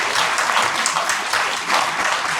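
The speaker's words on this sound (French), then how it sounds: "Ce soir, ici, à La Ciotat, je vous propose de les applaudir." Audience applause at a public New Year's greeting event in La Ciotat, honoring a volunteer team: steady, dense clapping from a crowd, loud and continuous throughout.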